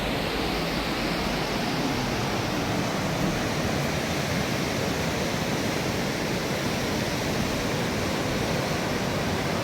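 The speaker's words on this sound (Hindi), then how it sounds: "दरिया का शोर बिल्कुल मुनफरिद है।" Mountain river rushing past a hotel room in Kalam, where the Utror and Ushu rivers meet to form the Swat River, a dense steady roar of water, loud and unbroken throughout with no voices.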